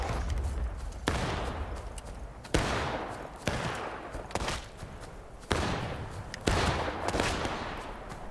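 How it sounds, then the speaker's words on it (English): Musket volleys in the Civil War game War of Rights: several sharp, loud reports at irregular intervals, each trailing off into a long rumbling echo over a continuous battlefield din. "I'm running right in the middle of the people firing back and forth there"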